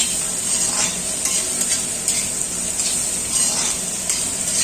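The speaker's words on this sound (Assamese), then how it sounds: "ইয়াতে আমাৰ পিঁয়াজখিনি দি দিয়া হৈছে মাংসটো হাফ ফ্ৰাই হোৱাৰ পিছত" Meat and onions fry steadily in a clay kadai with a continuous bright sizzle, broken by occasional scraping stirs, close and fairly loud throughout.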